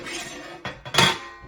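Metal clanks and a sharper scrape as the lid comes off a metal Pullman loaf pan of freshly baked white sandwich bread: a brief knock, then a louder metallic clink near the end.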